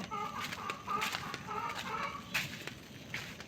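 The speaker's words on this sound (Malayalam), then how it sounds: "മേളിൽ കോഴിയൊക്കെ ഉണ്ട്" Several chickens cluck and chatter nearby in quick irregular bursts over a quiet outdoor background.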